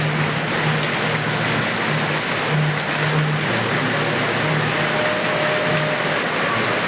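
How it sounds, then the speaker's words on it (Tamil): Loud, steady rushing of falling water, a continuous broad roar like a waterfall close by, with a faint low hum underneath and no voices. "ஒரு குற்றால ஆற்றுல விழுகிற மாதிரி விழுந்துருக்கு தண்ணி."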